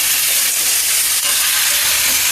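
Brinjal pieces dropped into a hot pan for a South Indian podi kathirikkai poriyal give off a loud, close, continuous sizzling hiss.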